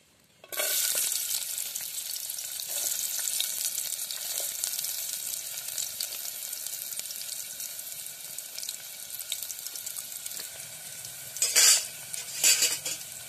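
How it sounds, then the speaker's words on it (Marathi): Onion dropped into hot oil for a village-style Maharashtrian mutton curry, bursting into a loud steady sizzle that settles over time, with metal spoon scrapes and clinks against the pan near the end. "आता आपलं तेल चांगलं गरम झालेलं आहे, त्याच्यामध्ये आपण कांदा टाकायचा।"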